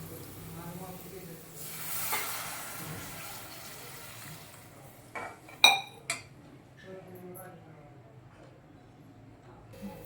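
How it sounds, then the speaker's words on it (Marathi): Water poured into a hot pan of fried onion, garlic, turmeric and red chilli masala gives a brief rushing hiss, followed later by a few bright clinks of metal utensils and quiet kitchen handling, with faint voices at the start. "आता यामध्ये पाणी टाकूया"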